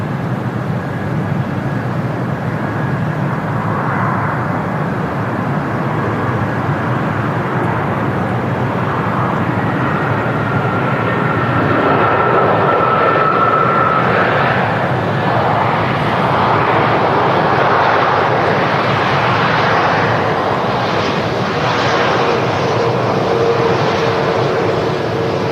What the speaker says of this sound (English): An aircraft taking off in the engine run-up bay, it sounds like.